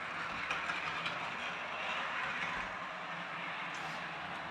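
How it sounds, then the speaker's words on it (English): A model ScotRail Class 156 train rumbles and clatters steadily over a viaduct, a quiet, continuous rolling sound with faint rhythmic clicks and no voices. "The sound of it that goes over the viaducts changes."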